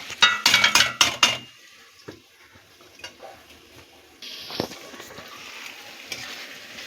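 A lid clatters and clinks onto a pan of tomatoes cooking for a Bengali tangra fish curry, with a few sharp metallic knocks up front, then a soft, steady sizzle continues under the covered pan.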